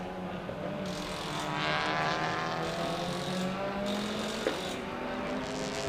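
A Honda TCR race car of the Honda YPF Racing team accelerates out of a corner at the Termas de Río Hondo circuit, its engine a loud, sustained rising drone with gear changes partway through and no voices.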